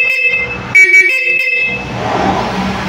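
A newly installed Bosch car horn honks in a few short, loud blasts close by, then stops, leaving the hum of an idling engine.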